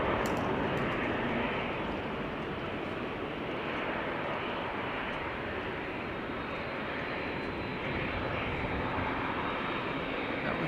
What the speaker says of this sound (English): the Dreamliner to Nairobi, Kenya on the move